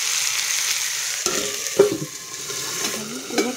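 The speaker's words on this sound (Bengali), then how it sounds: "আলুগুলো সব তেলের মধ্যে দেওয়া হয়ে গেছে। এবারে আস্তে করে নেড়ে দেবো।" Potatoes frying in hot oil and gently stirred while cooking a small-fish chorchori, a soft continuous sizzle broken by a few light scrapes and knocks of the spoon.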